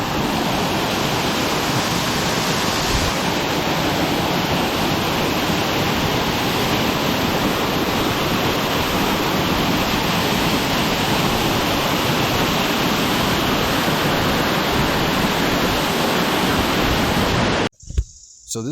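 White Owl Falls pours as a steady, loud, broadband roar of falling water, continuous and close for the whole stretch, cutting off abruptly at the very end.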